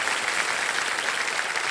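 Studio audience on the KBC celebrity special applauds to welcome two artists, Ravi Gupta and Harsh Gujral, with a dense, steady wash of clapping that holds at full strength throughout.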